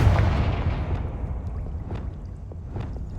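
Confringo fire spell explosion in the video game Hogwarts Legacy, a loud, deep booming blast with a rumbling tail that slowly fades, with faint crackles scattered through the decay.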